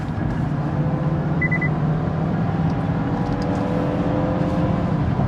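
A 2019 Mazda CX-5 engine pulls steadily after a downshift to fourth gear, a continuous in-cabin drone with road roar, brief soft chimes early on, and no talking.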